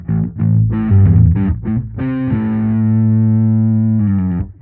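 A Fender Super Bassman tube amp on its overdrive channel at maximum distortion plays loud, heavily saturated chords and notes, ending on a long sustained buzzing chord before a final short phrase.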